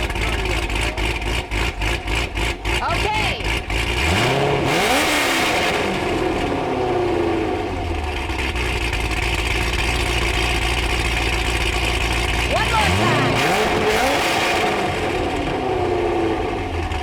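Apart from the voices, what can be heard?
Corvette engines revving through loud exhaust pipes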